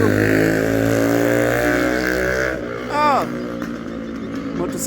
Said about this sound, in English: motorcycle making lots of noise